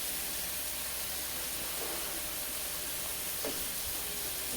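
Tomatoes fry in a pan for a chicken and potato curry, giving a steady, dense sizzling hiss that holds throughout with a few faint clicks of stirring, close and alone.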